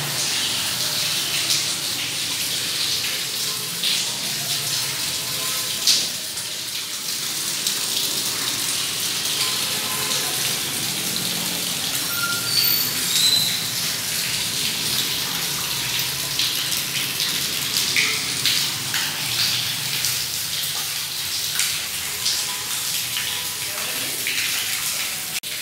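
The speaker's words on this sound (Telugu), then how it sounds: "ఆయన ఇంట్లో నీళ్ళు మాత్రం భలే పడుతున్నాయి" Rainwater pours down steadily inside Gurajada Apparao's house in Vizianagaram during the first monsoon shower, a continuous close splashing gush that runs unbroken for the whole stretch.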